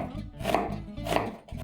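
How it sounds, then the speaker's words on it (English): A knife slices thinly through an onion on a cutting board, a quick series of close, crisp chopping taps in short bursts with no talking. "I'll start slicing very thinly, almost the whole length of the onion, but not all the way through."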